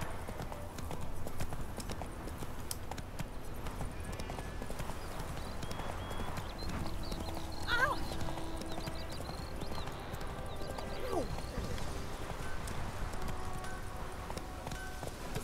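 The horse Roach gallops in The Witcher 3, steady rapid hoofbeats close up throughout with a brief whinny partway through.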